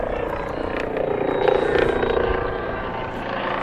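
A low-flying helicopter drones steadily overhead above a lacrosse field during a high school game, its rotor rumble swelling slightly midway, with faint crowd noise underneath.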